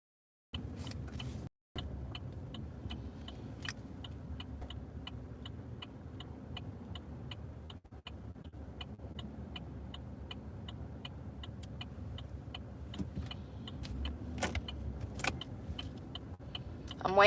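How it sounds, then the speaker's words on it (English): A truck with a failing transmission, driving with a steady low rumble and a constant fine ticking rattle throughout, no talking. "Did y'all see my truck just do that? Yeah, my transmission's about to fall out."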